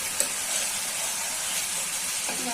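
Spice paste for mustard hilsa fries in a pan with a loud, steady sizzle and hiss, broken by a brief stirring scrape.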